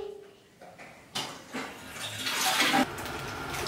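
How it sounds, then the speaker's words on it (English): A household toilet flushing indoors, a rising broadband rush of water that builds over a few seconds and stays steady, with a faint voice briefly at the start. "Please flush the toilet."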